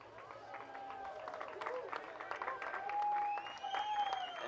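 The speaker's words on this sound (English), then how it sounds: "Let's give them a big round of applause," Spectators at the 2016 UCI BMX World Championships in Medellin, Colombia applaud young BMX riders: moderate, steady clapping heard from a distance, under a wavering musical tone and crowd noise.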